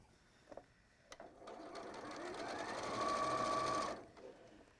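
A sewing machine stitches the peak of a hat in one steady run of about three seconds that builds to a loud, even whir. Short clicks and handling noises come before it, and the motor whine fades out near the end.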